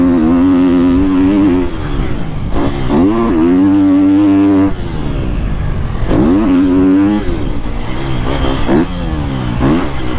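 New Triumph 250 motorcycle ridden with its engine map button switched on: a loud, close engine revs up and down repeatedly, its pitch sweeping through gear changes for about ten seconds with no voices.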